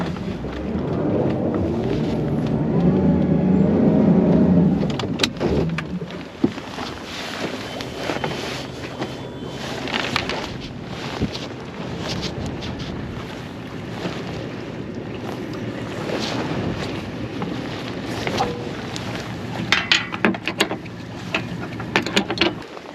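A Nitro Z20 or Z21 XL bass boat runs over water under heavy wind buffeting, its engine loudest in the first few seconds before settling into a steady rumble with splashes.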